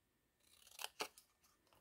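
Scissors snip a small inverted V into paper while a birthday card is being made: two sharp, close cuts in quick succession followed by a softer third snip, all against near silence.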